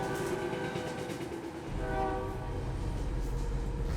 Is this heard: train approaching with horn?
yes